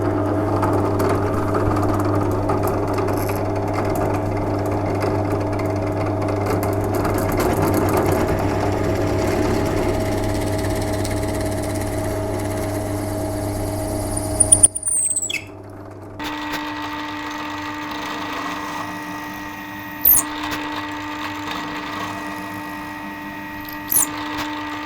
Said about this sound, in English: I'm going to drill into the back of the headstock, probably about 10mm